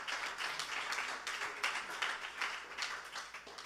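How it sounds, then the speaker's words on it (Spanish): A church congregation applauds during a sermon, a dense, continuous patter of many hands with slight pulsing swells, moderately quiet and without speech. "Aplaude con Kenia."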